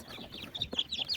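Hen clucking softly among peeping chicks during brooding, a run of short close clucks and high chirps in quick irregular rhythm, with no talk.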